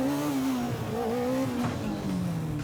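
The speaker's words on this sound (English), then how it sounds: "try revving it a bit higher," A stunt motorcycle engine holds a steady, high rev, its whine wavering slightly and dipping near the end, loud and close with no talk.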